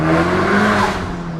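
A 300 kW front-wheel-drive Honda Type R driven through a tunnel, its engine a loud, close, echoing drone that holds steady, then eases slightly toward the end.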